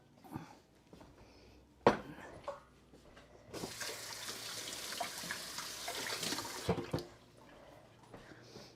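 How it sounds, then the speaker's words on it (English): Tap water runs into a kitchen sink as hands are washed during cooking, a steady close rushing splash lasting a few seconds after a couple of sharp clinks of dishes, with no talk. "Wash my hands"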